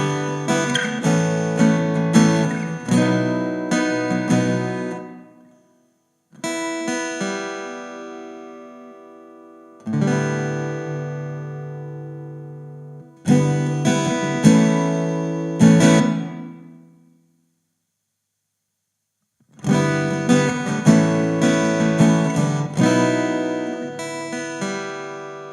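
Acoustic guitar played through an Orange Crush Acoustic 30 amp with its EQ being adjusted, heard as four separate strummed chord passages with ringing decays and short silent gaps between them, loud and close, no talking.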